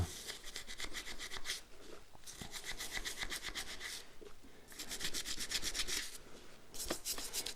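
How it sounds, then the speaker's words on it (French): A motorcycle brake caliper from a Yamaha FJR 1300 scrubbed clean with a brush during a rear pad change, giving repeated bursts of dry rubbing strokes up close, with short pauses between bursts. "Donc là vous frottez jusqu'à ce que ça soit nickel."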